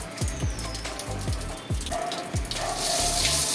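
Tap water runs through a shower booster pump, splashing and gurgling steadily, then a louder hiss of flow builds near the end, with no speech.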